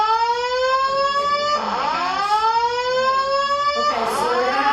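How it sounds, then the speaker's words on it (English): Fire alarm siren sounding in a public utilities board meeting room, a loud steady rising-and-falling electronic wail with two sweeping cycles, alone with no talk over it. "we're gonna have to take a break for the fire alarm"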